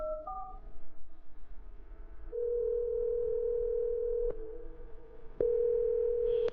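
Phone call to a software support team going unanswered: brief dialing tones, then a long steady ringback tone repeated in sections with short breaks, clear and alone with no talking.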